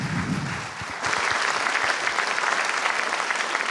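An audience at a Sardinian emigration conference breaks into steady, full applause after a speaker's voice trails off, the clapping dense and sustained from one second onward.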